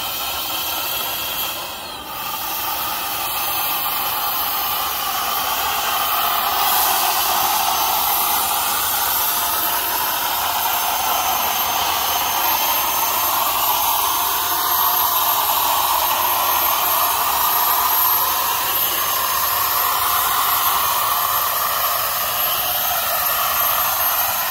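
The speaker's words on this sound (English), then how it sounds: "All right, so I'm testing out this electric sprayer." Cheap electric spray gun spraying Versacoat 13 thinned 50-50 with acetone, a loud, steady airy whine and hiss that runs unbroken up close with slight shifts in pitch.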